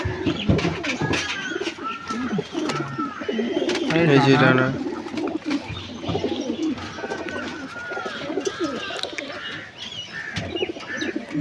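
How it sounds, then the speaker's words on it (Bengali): A green male yellow-eyed pigeon coos in soft repeated bursts, loudest in the middle, while someone talks close by throughout. "সবুজ নর হলুদ চোখের পায়রা"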